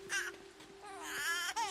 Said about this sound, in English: You've woken the baby.